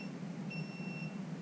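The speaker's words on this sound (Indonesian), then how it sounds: "sistem kamera ini akan otomatis mendeteksi itu dan menyalakan alarm" A thermal imaging camera's over-temperature alarm sounds a steady electronic tone, two faint high pitches held for about half a second over a constant low hum, with no talk.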